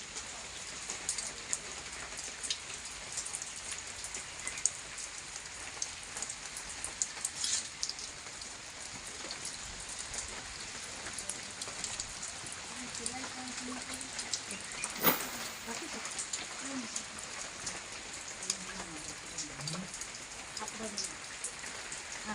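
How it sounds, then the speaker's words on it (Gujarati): Continuous rain patters steadily on surfaces close by, a dense even hiss throughout, with faint murmuring voices in the background partway through. "વરસાદ પડી રહ્યો છે"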